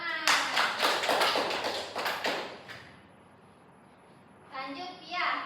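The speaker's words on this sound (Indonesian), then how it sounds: "Oke, tepuk tangan." Children in an Indonesian class for foreign learners clap together in a quick string of sharp, fairly close claps that stop after a few seconds. A brief lull follows, then a voice speaks.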